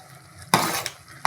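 Mysore pak mixture being stirred in a pan while ghee is added, with a sudden loud sizzle and scraping burst that fades, then a second burst starting near the end; close and fairly loud, no voices.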